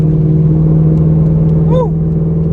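A cam-swapped fifth-generation Chevrolet Camaro drones steadily on a dyno, its loud exhaust holding a constant note, with a brief crackle and pop near the end as the revs drop.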